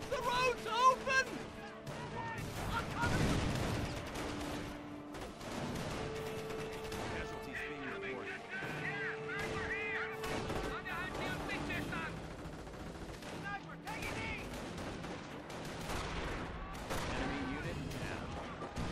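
Scattered gunfire and distant explosions from the World War II strategy game Company of Heroes rumble through a busy battle mix, with sustained tones and game voices talking throughout.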